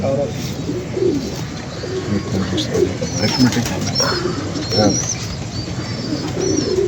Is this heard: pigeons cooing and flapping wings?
yes